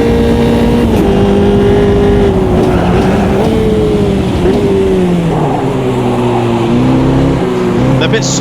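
A race car engine in the racing game Automobilista 2 drones loud and close, its pitch rising and dipping through gear changes and corners while another car runs nearby, with a voice talking over it.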